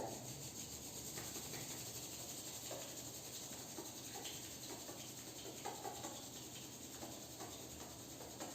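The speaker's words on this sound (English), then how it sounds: "Rub palms together." Palms rub together in a quiet yoga class setting, a faint, soft continuous swishing friction with slight irregular pulses, close and low in level.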